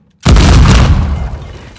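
A single loud gunshot in the action-adventure game Uncharted 4 cracks in sharply after a short silence, then rolls off in a long, booming echo that fades slowly.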